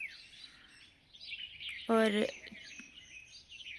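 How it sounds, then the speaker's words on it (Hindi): Birds chirping on a quiet village morning, a sudden burst of bright stacked tweets in the middle standing out over a soft background of faint birdsong, with a brief spoken word nearby. "चिड़ियों का चहकाना सुनो।"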